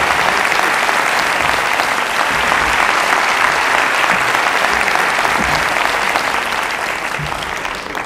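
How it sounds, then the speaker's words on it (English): Loud, sustained audience applause after a speech at an Intelligence Squared debate on Greece and the euro, steady clapping from a large hall that holds for about eight seconds and begins to fade. "Well, you seem to get quite a bit of applause there, didn't you, Denis?"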